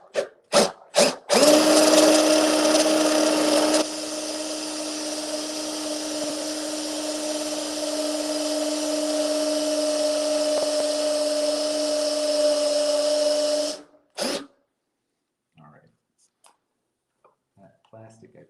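A few sharp knocks, then a power drill whines steadily at a constant pitch for about twelve seconds while building a plastic rain barrel, followed by faint clatter and quiet sounds.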